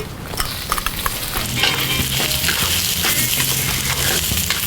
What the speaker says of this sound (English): Now when the wok's hot, I'm going to add some oil and some garlic and onion.